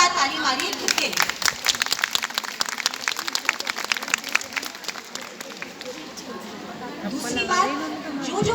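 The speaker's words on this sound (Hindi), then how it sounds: "तो पहले तो जोरदार ताली मारिए खुद के लिए" A large seated audience bursts into loud, sustained clapping for themselves, a dense crowd of hands with scattered murmuring voices throughout, swelling again near the end.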